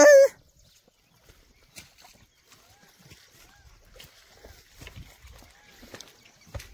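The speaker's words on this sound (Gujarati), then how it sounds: "ઈ ભાઈ મોરલા બોલે," A peacock calling in the rain-greened Gir forest gives one loud, sharp cry right at the start, followed by quieter outdoor ambience with faint scattered sounds.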